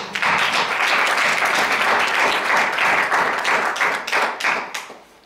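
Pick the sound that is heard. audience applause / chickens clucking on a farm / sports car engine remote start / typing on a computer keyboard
audience applause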